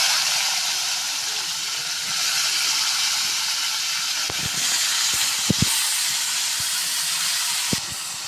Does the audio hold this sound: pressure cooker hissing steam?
yes